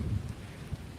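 Steady outdoor rain with a low wind rumble, a dense, even wash heard close with no voices.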